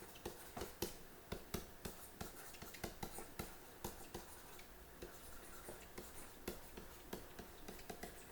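Chalk tapping and scratching on a lecture hall board, a series of quick, distinct ticks and clicks in an uneven writing rhythm, close and fairly quiet with no voice.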